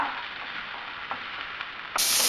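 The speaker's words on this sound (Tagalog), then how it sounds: "Ayan, sayote natin. Halo lang natin siya." Chayote being stirred in a hot pan, a steady soft sizzle with faint scrapes of the spoon, and a brighter burst of frying near the end.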